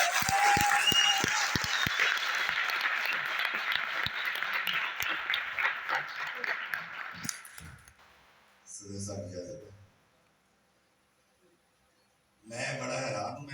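Applause from a mushaira audience greeting an Urdu poet as he is welcomed to the stage, a dense sustained clatter of many hands for several seconds, then fading into short bursts of talk.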